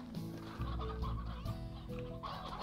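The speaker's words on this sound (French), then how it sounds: "Oh, regardez là, on a plein de poulets maintenant." Chickens cluck in Slime Rancher, several overlapping clucks and squawks running continuously at moderate loudness with no talking.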